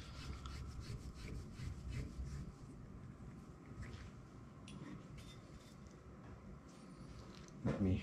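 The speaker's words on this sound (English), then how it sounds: "Screwing it on, making sure the O-ring stays nicely in place and you don't pinch it." A valve being screwed onto a carbon fiber air tank gives continuous close gritty rubbing and scraping of threads, moderately quiet, ending in a slightly louder knock.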